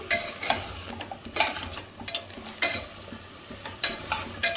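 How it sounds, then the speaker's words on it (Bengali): Vegetables fry in a pan under a soft sizzle while a spoon stirs in sharp, irregular scraping bursts, close by and without speech. "একটু ভেজে নেব যাতে সবজিটা ভালো লাগে খেতে"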